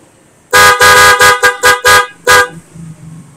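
A loud aftermarket horn combo on a Honda ADV160 motorcycle sounds in a quick burst of about seven sharp toots, ending with one slightly longer blast, then quiet.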